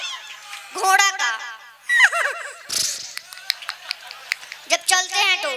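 A voice mimics a horse neighing, giving several wavering, whinny-like cries in bursts, close and loud, with short clicking sounds between them.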